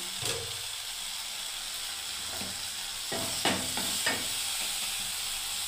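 Masala spices with two cardamom pods frying in a pan for a Bengali doi potol curry, giving a steady soft sizzle broken by a few sharp clinks and scrapes of stirring near the end, with no speech.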